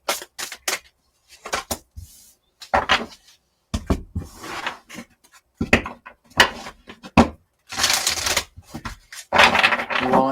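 Tarot cards being shuffled by hand, a series of close, crisp riffles and slaps in irregular bursts separated by brief pauses.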